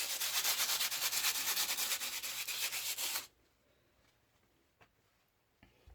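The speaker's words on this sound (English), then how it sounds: "Be careful not to sand too much, as you don't want to damage the gypsum board underneath." Sandpaper rubs back and forth over a patched crack in gypsum wallboard, a loud, rhythmic scratching for about three seconds before it stops abruptly, leaving near silence with a couple of faint ticks.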